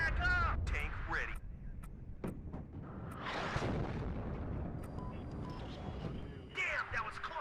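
Artillery strikes exploding in the Cold War strategy game WARNO, a run of booming blasts and bursts over a dense battle rumble, with voices talking over parts of it.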